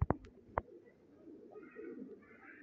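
A few sharp clicks open, followed by soft, low cooing from racing pigeons that is fairly faint and close.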